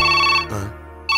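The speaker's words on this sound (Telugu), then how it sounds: "ఫోన్ రింగ్ అవుతుంది." A telephone rings in a Telugu film scene, its bright electronic bell sounding in two bursts separated by a short pause, loud and close with no voices.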